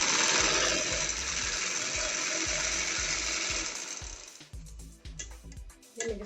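An electric sewing machine stitches an angrakha shirt in a steady fast mechanical whir with rhythmic ratcheting clicks for about four seconds, then stops, leaving a few scattered handling clicks and rustles.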